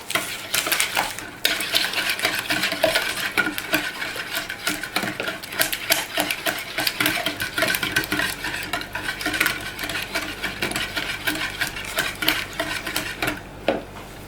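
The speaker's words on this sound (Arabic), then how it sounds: "يلا كتبدا تحرك" A utensil whisks eggs in a bowl for pancake batter, giving a fast, steady clatter of metal tapping and scraping that runs close and unbroken with no talking.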